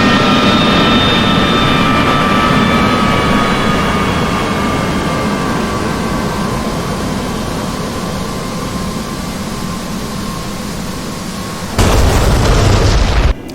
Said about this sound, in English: Bomb's going to drop.